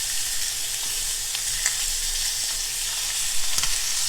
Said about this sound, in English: Oh yeah, I got a nice sear.